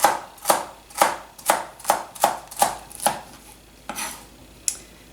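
Knife chopping vegetables into quarter-inch strips on a cutting board, about eight sharp, evenly spaced chops followed by two slower cuts, close and clear with no talking.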